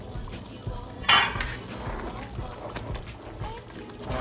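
A metal pot clanking as it is checked while hominy corn porridge simmers in coconut milk on the stove, with one sharp lid clatter and soft bubbling behind.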